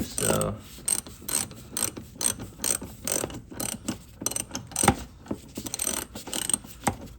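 A hand ratchet tightens the outer tie rod on an Acura RSX Type S, giving a close, rapid run of crisp clicking strokes in uneven bursts, with no voices.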